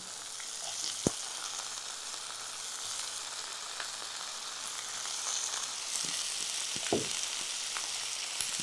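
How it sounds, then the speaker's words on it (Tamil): Potato and eggplant sauté in a pan with turmeric and tomato, a steady, soft frying hiss with a few faint taps of stirring, close by, with no one talking. "இப்போ தீயை நிதானமாக வச்சுட்டு இதை நல்லா வதக்கிடணும்."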